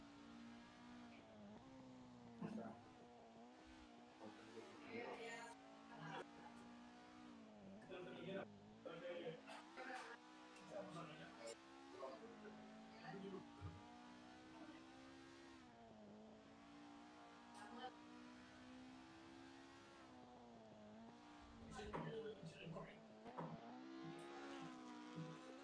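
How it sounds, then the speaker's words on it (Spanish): A rally car engine heard from onboard during a virtual rally, revving up and down steadily through gear changes, with a commentator talking over it throughout. "Dentro del coche de Daniel Rubio."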